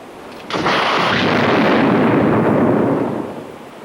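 A cannon fires from a long gun carriage, a single loud, deep boom that rolls on and fades slowly over a few seconds, with no talk.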